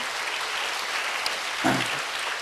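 Congregation applause during a Korean church sermon, a steady even wash of clapping throughout with a brief low voice near the end.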